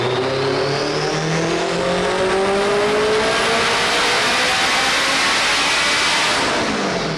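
A 650 wheel-horsepower all-wheel-drive Honda Integra screams on a dyno, its engine note climbing steadily through a long, loud pull that fills the clip without pause.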